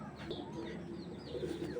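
Army pigeons coo softly in a loft, low murmuring calls overlapping with faint chirps from other birds close by.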